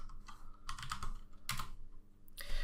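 Keys clatter on a computer keyboard as a terminal command is typed, in a few quick bursts of clicks with short pauses between, close and fairly quiet.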